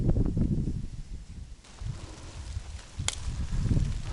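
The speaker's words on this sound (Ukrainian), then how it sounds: "Дуже сильний вітер" Strong wind at a fishing spot buffets the microphone in heavy low rumbling gusts that rise and fall, with a brief sharp rattle near the end.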